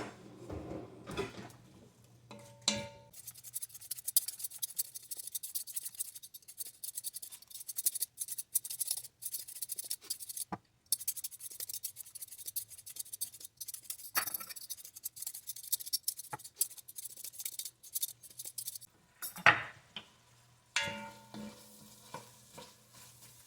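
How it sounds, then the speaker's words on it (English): Potatoes are peeled and cut up in a kitchen while onions cook in butter: quiet, irregular scraping strokes and knife taps, close and soft, over a faint steady sizzle from the pan. "I'm going to peel and cut up the potatoes while that's working"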